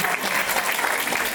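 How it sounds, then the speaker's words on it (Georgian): An audience applauding after a choir ensemble's song, dense continuous clapping close and loud throughout. "კიდევ ერთხელ ხუხარი აპლოდისმენტები"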